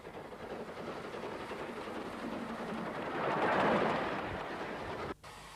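A train on the Cambridge to Mildenhall branch line rumbles past at a small station, a steady rolling roar that swells to a peak near the middle, then cuts off abruptly.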